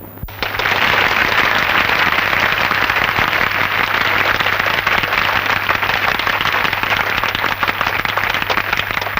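A crowd claps loudly and continuously for a stage entry, a dense steady wash of applause held for about nine seconds under a low hum.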